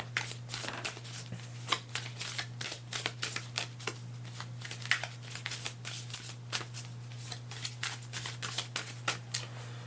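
Tarot oracle cards are shuffled by hand in a quiet room, giving a steady run of crisp riffling and flicking bursts over about ten seconds, close and moderately loud with no talking.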